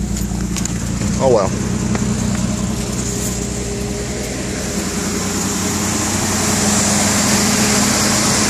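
Nissan 300ZX engine with a newly revisited timing belt running at a steady idle, a constant low rumble filling the scene, with a brief spoken remark over it near the start.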